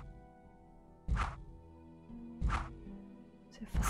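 Three sharp thunking crossbow-bolt impacts from the video game Gothic 1 land at irregular intervals over a low background hum, each a brief punchy hit.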